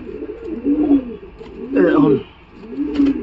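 A large red chhapka pigeon coos up close in repeated low, throaty rolling calls, three distinct phrases across a few seconds, with a voice also present.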